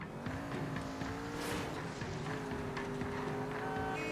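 Car engine in the L.A. Noire video game, a steady droning hum with rising and falling pitch as the vehicle drives, with brief tire noise mid-way, continuous and moderately loud with no talking.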